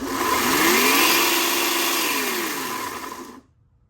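An Einhell battery chainsaw with a brushed carbon-brush motor whines loudly at speed, then its pitch sinks as the chain keeps coasting after switch-off before it cuts to silence.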